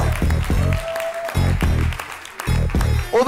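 Applause at a francophone slam poetry championship final in Le Mans for Biscotte, audience clapping heard in bursts under a loud voice speaking over it.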